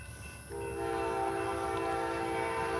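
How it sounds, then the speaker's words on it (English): A train passes nearby with a loud, sustained horn blast that starts about half a second in and holds steady over the rumble of the rail cars, with no talking. "I'm gonna let that train pass by, y'all."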